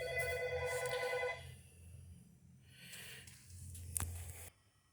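A telephone rings in a mechanic shop, a quick burst of electronic trilling at the start, then faint shop ambience with a soft clunk, fairly quiet overall and without speech.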